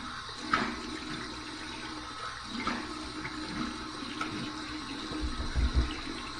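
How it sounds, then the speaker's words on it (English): Warm tap water runs and splashes at a bathroom sink during a rinse after shaving, with a few louder splashes of cupped water toward the end. "Here's my warm water rinse."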